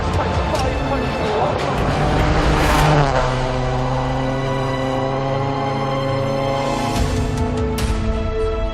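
A rally car runs a stage toward the finish, its engine note rising and falling through gear changes and a passing roar, heard at moderate distance under a commentator's voice.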